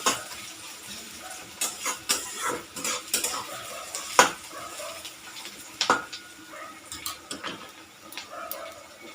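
Onions frying in oil for egg biryani, a soft sizzle under repeated scraping and stirring of a spatula against the pan, with occasional metallic clinks, close and intermittent.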